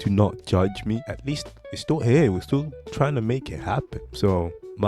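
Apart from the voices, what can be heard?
No everyday noises stand out.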